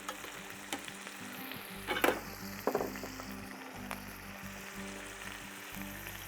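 Venison steak sizzling in a hot pan just after being flipped, a steady close frying hiss with a couple of brief louder spits and crackles partway through.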